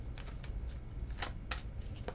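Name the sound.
shuffling tarot cards before pulling a card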